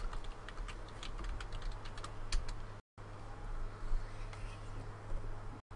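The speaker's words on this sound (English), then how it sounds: "Dude, I'm like typing now" Clicky typing on a Razer BlackWidow mechanical keyboard, a steady run of sharp key taps with brief pauses, fairly close under a low background hum.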